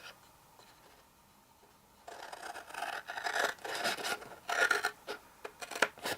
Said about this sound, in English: we need to make a cut up to the 6 inch score line